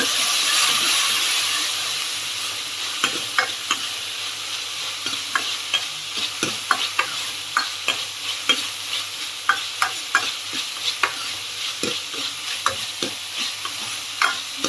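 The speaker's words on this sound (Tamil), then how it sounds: "ஒரு தக்காளி மீடியம் சைஸ் தக்காளி ஒன்று ஒன்று அதையும் இதில் போட்டு நல்லா வதக்கி விட்டுருங்க" Tomato and green chillies sautéed in a pan, a spoon scraping and stirring in regular close strokes over a steady background sizzle, with a louder rush of frying at the start.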